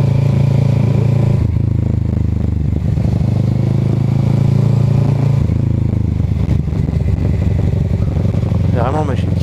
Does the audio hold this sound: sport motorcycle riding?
yes